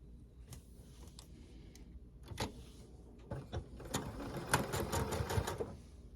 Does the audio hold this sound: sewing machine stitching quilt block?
yes